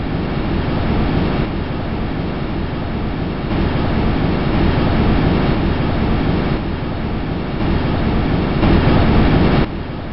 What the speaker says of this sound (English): this is actual audio taken by a microphone on the Huygens probe as it descended through Titan's